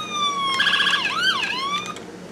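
A 1:18 scale Starsky & Hutch Ford Torino toy police car siren wails in a short electronic sweep, rising and falling a few times, fairly loud and close with no other sounds.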